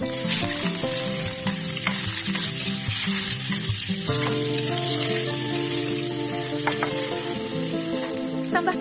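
Minced chicken fries with onion in hot oil, giving a loud, steady sizzle with scraping from stirring and a few clinks, close up with no talking.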